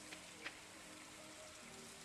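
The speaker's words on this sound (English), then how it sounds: "It's raining" Steady soft rain falling in the Stardew Valley video game, a continuous even hiss with a couple of faint droplet ticks, quiet and alone with no talk.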